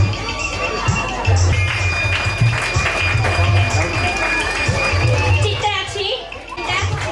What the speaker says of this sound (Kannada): ಕೈ ಚಪ್ಪಾಳೆಯಿಂದ ಪ್ರೋತ್ಸಾಹಿಸಬೇಕಾಗಿ ಕೇಳಿಕೊಳ್ಳುತ್ತಿದ್ದೇನೆ